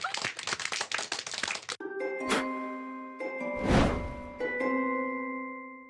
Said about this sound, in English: Give them a round of applause as they go back to their seats